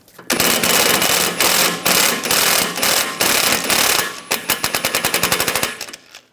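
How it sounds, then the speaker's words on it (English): Impact wrench with a T50 socket loosening a suspension bolt on a 2009-2013 BMW 328i xDrive, loud sustained rattling bursts separated by short pauses, ending in a quick series of sharp hammering pulses. "we're going to loosen this bolt"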